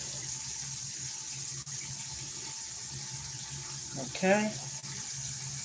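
Tap water runs steadily into a kitchen sink as a tomato is rinsed under it, a soft continuous wash with a brief spoken word near the end.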